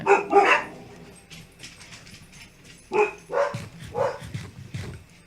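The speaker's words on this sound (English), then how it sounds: "Dogs barked, so you may get muted, or it might not be that loud" Dogs bark near a sugarcane farm, a couple of sharp close barks at the start, then a quieter stretch before a second cluster of barks and yips.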